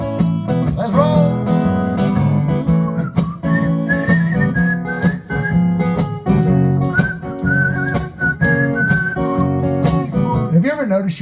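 A man whistles a tune over music at a house concert in Tehachapi, California, the bright wavering melody running through much of the passage alongside steady instrumental accompaniment and some voice.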